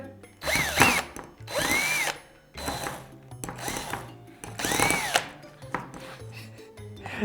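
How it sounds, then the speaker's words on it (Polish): A cordless drill on its lowest speed turns a spoon in hot milk and chocolate, whirring in several short bursts with pauses between them, close and fairly loud. "Ustawiamy wkrętarkę na najniższe obroty."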